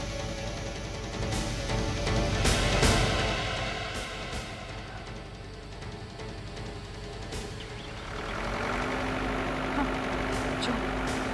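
A car approaching with its engine running, a low, steady engine rumble that swells slightly, dips midway, then builds again with a sustained hum toward the end.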